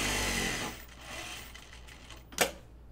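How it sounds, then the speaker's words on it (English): A home sewing machine stitches cloth napkins, a steady mechanical whir running for most of the moment at moderate level, easing off midway, followed by one sharp louder clack near the end. "I'm gonna do these two and then I'm gonna sew my others for a fringe"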